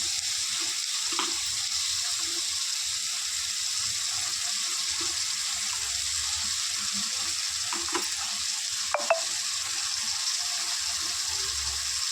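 Chopped capsicum frying in a pan, a loud continuous sizzle with scraping stir strokes heard close up throughout and no talk.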